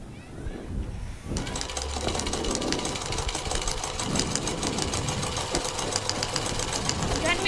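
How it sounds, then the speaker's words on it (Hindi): A sewing machine runs in a domestic scene staged as a school drama, its rapid mechanical chatter starting abruptly after a moment and continuing steadily and fairly close, with faint voices in the background. "दादी सिलाई मशीन से कुछ कपड़े सी रही है।"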